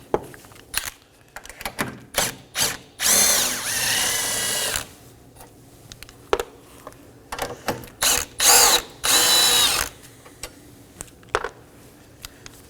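Power tool bursts loosening the 10mm nuts and bolt on the battery hold-down bracket of a 2015-2023 Nissan Maxima, two long whirring runs among short ratchety clicks and taps, close and loud.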